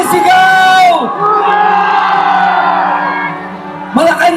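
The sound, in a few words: crowd shouting together at a protest rally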